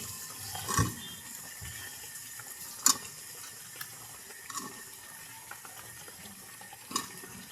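Liquid is poured into a pan of spiced hilsa fish curry cooking with green banana and potato. A quiet, steady wash of liquid runs throughout, broken by a few brief clinks of utensils.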